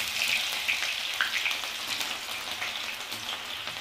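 Garlic and green chillies frying in hot oil with cumin and mustard seeds, giving a steady close sizzle with small crackles and pops throughout, with no talk.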